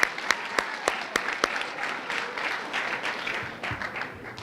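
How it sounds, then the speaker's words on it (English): An audience at a fall sports athletic awards assembly applauds for parents: a few sharp, separate claps open it, then it swells into steady, moderately loud group clapping that fades slightly near the end. "Clap for your parents."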